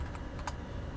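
A few quick keystrokes tapped on a computer keyboard while entering a command, soft close clicks in a short burst over a faint background hiss.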